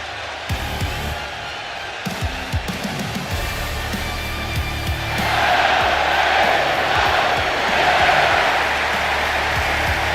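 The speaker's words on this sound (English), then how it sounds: "For the roar of the crowd tells you all you need to know." Wrestling arena crowd roaring for L.A. Knight, starting with scattered thumps and clanks before a dense, loud cheer swells and holds as a sustained wash of crowd noise.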